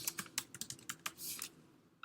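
Someone types a short note on a computer keyboard: a quiet run of about a dozen quick, irregular key clicks, with no voices.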